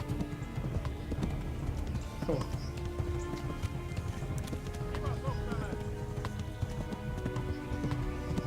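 Horse galloping in the medieval video game Kingdom Come, steady rhythmic hoofbeats clip-clopping nonstop at a moderate distance, with light ambient game sound around them and no talk over them.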